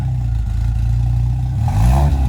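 A Hillman car engine with a freshly rebuilt carburettor idles with a steady low hum through its exhaust, then is revved, the pitch climbing and swelling louder toward the end.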